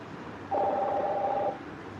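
A telephone sounds during a call-in talk show, giving a single steady electronic tone about a second long that stands clearly above low background hiss.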